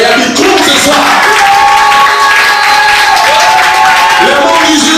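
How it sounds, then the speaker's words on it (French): A crowd at a dance battle selection in Port-Gentil applauds and cheers loudly, the clapping steady beneath shouting voices and a sustained musical tone. "Est-ce qu'on peut encore applaudir le Gayabi Kro ce soir?"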